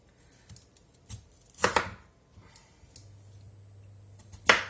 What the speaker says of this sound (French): Donc, je vais les couper pour pouvoir les passer dans l'appareil.